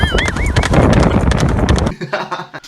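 A drum kit's double bass pedal pounds out rapid, galloping kick-drum strokes, loud and close, alongside a brief warbling tone. The strokes stop abruptly and a few scattered hits trail off.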